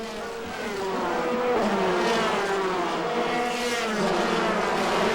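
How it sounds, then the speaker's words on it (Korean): Top-level race cars from many countries roaring around a racing track, a loud continuous engine drone with shifting pitch as cars speed past, steady and close throughout. "세계 18개국 최정상 카레이서들이 펼치는 경기는 박진감이 넘친다."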